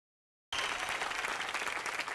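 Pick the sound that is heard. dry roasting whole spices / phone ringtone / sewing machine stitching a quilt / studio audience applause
studio audience applause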